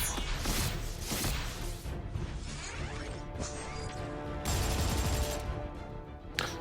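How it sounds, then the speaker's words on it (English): Enemy gunfire in a video game, dense bursts of shots and crashing impacts rattling on without pause for several seconds, loud and close with no talk. "Oh, you tried to shoot me."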